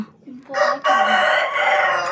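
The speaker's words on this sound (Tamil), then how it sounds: "கோழி கத்துதுங்க ஃப்ரெண்ட்ஸ் கோழி கத்திருச்சு" A rooster crows at dawn in a rural village, a loud close cock-a-doodle-doo rising after a brief softer call, with no talking over it.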